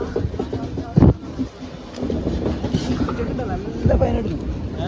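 Busy railway platform ambience as a passenger train arrives, rumbling nearby, a sharp clunk of carriage noise and people talking in the background.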